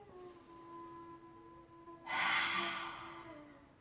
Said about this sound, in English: Breathing in and out the nose.